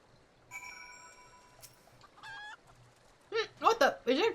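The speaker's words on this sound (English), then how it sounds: "What the? Is there chicken?" A chicken clucks in the Final Fantasy 14 video game world, several sharp loud clucks near the end after quieter tonal game sounds and chimes, with no speech over it.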